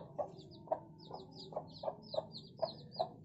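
A sick chicken clucks in a steady series of short, close calls, about eight of them, with no one speaking.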